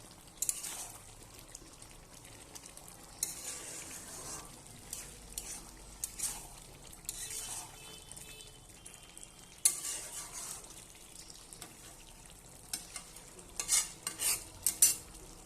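Chicken skin and pumpkin being stir-fried in a pan, with steady scraping and stirring strokes of a utensil against the metal over a continuous sizzle, louder clattering clusters near the end, no voices.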